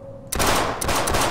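Rapid automatic gunfire in the video game Half-Life (Sven Co-op), a loud burst of quick repeated shots starting abruptly after a brief quiet tone and continuing to the end.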